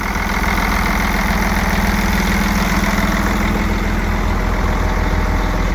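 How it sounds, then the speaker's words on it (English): A Mercedes diesel engine idles in a Sterling truck with a loud, steady, even rumble and fine rhythmic pulsing, heard close up and alone. "Nice and clean and nice sounding as well. No odd noise for this Mercedes."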